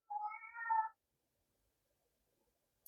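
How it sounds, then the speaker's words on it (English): A pet cat named Rosie meows in a short, clear run of cries lasting under a second, fairly close. Silence follows. "It's my cat."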